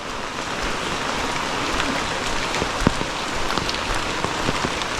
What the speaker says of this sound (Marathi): पाऊस काही कमी नाही होत्या बघा परत आला